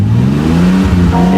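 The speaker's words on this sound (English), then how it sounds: "So, now I'll give it a rev." A car engine revs up loudly and close, its pitch climbing smoothly toward about 3,000 RPM during a shift light installation.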